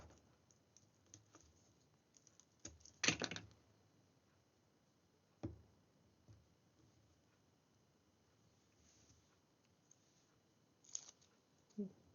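Scissors snipping paper place cards with straight edges: a few faint, sharp cuts scattered through an otherwise quiet room, with small handling clicks between them.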